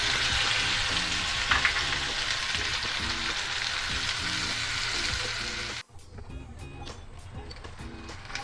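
Chicken korma: food sizzles and crackles loudly in a hot pan for several seconds, then the frying drops to a quieter sputter, with occasional spoken words over it.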